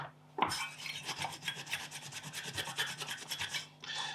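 Rapid rhythmic scrubbing rasps at old, dried thermal compound being cleaned off a secondhand PC's cooler with isopropyl alcohol, roughly a dozen quick close strokes in a steady burst with no talking.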